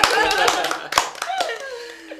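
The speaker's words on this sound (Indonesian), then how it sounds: "Tepuk tangan." Several sharp hand claps ring out among lively voices and a bit of laughter at a school podcast recording, people chattering over the clapping.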